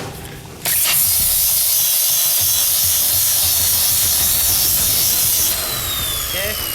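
An angle grinder shaping metal to a 45-degree bevel on a Cummins-powered rat rod build, a continuous loud harsh grinding roar that starts abruptly and holds steady, heard up close.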